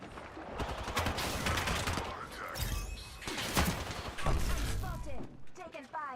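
Bursts of video game gunfire in a battle royale match, rapid overlapping shots and thuds at varying distance, with a voice talking over the combat.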